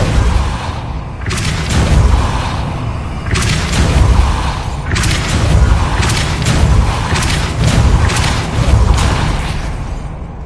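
Spell blasts from the Hogwarts Legacy video game, a series of heavy booming thuds and bursts hitting at irregular intervals over a dense, low rumbling game soundscape, with no talking.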